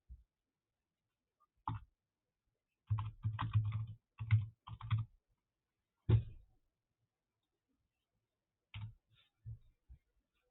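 Typing on a computer keyboard while setting text for a Photoshop name animation, heard as several short bursts of quick, close keystrokes separated by pauses, with no talking.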